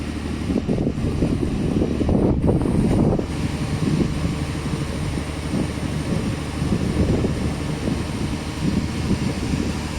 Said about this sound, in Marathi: पूर्ण वेदर खराब आहे मित्रांनो वारा सुद्धा भरपूर आहे